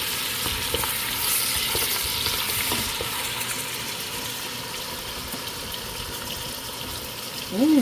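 Garlic and chili sizzle in a frying pan while being stirred, a continuous close hiss with scraping utensil sounds, ending in a brief louder clatter.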